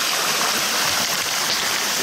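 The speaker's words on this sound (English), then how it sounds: "it's completely collapsed in with a lot of water running out of it" Water pours steadily out of a collapsed ship hull, a loud, continuous rushing splash like a small waterfall with no break or talk.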